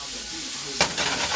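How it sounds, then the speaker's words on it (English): Onions sizzle in a pan with a soft, steady hiss, then a quick stir adds a sharp scrape and louder frying crackle near the end. "So let's come back to our onions. Follow up on these. Right, give them a little quick stir."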